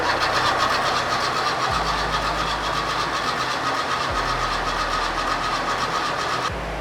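Fiat 131 Mirafiori Abarth engine running loud and steady, with its low note dropping and climbing again in three throttle blips over a constant mechanical roar, no talking.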